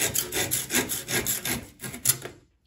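A hand saw cuts a starting channel into a wooden block for a hollow box, giving about eight rhythmic rasping strokes close by before stopping abruptly.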